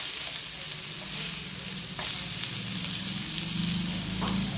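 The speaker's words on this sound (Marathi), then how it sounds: "थोडं पलटी करून बघते एकच त्यांना" Rava-coated pomfret fish sizzles steadily in a frying pan, a continuous crackling fry with a brief sharper spatter near the middle, close and moderately loud, with no talking.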